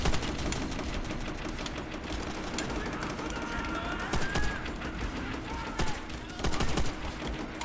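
Gunfire from the World War II shooter game Call of Duty: World at War, a dense run of rapid shots and bursts at steady loudness with a few sharper reports near the end, under faint background game noise.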